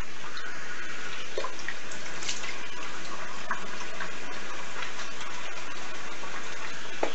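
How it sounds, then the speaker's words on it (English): Water runs steadily from a tap during a shave as lather is rinsed off the face, a constant close gush with faint splashes and no talking. "Let me rinse off the face"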